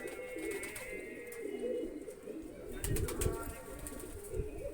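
Pigeons coo close by, low throaty rolling calls repeating over a few seconds, with light rustling and soft knocks.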